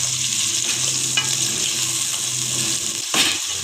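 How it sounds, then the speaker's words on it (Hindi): Minced meat keema fries in onion and ghee with a constant close sizzle, broken by a few stirring scrapes and a brief louder clatter near the end. "इसको हमने अच्छे से फ्राई कर लेना है प्याज में और घी में।"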